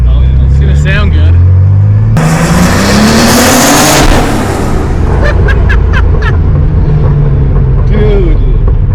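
Rare McLaren sports car, one of 350, revving loudly up close, the engine note climbing and roaring in sustained bursts with people chattering over it.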